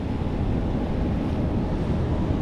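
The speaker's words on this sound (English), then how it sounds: "very big waves." Heavy surf pounds a shore along the coast of South Africa in rough seas, a steady, loud roar of breaking waves mixed with buffeting wind noise on the microphone.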